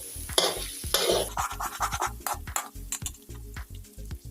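Pork and egg stir-fried together in a hot pan, with a steady sizzle under repeated scraping and tapping of a spatula against the pan in an uneven rhythm, close and alone.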